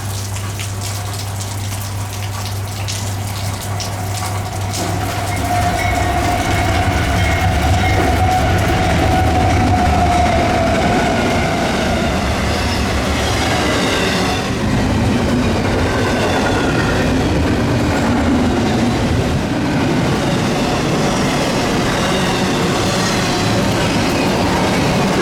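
Eastbound intermodal freight train hauled by two C6M locomotives in pouring rain at blue hour: a low steady rumble builds from a quieter start into a sustained roar of passing cars with faint clickety-clack, close and continuous throughout.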